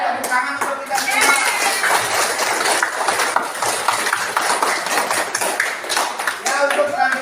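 Children in a classroom clap their hands at the end of a lesson, a lively, uneven burst of close claps mixed with chatter and voices throughout.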